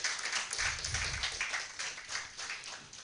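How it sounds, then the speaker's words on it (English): Audience applause welcomes a speaker at a community development project launch, a dense patter of many hands clapping steadily through the moment, moderately loud and fading slightly toward the end. "Please let's give her a round of applause."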